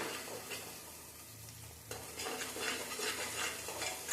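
Onions and garlic sautéing in a pan until golden, a soft continuous sizzle with faint stirring scrapes, growing slightly louder partway through, quiet and close with no talking.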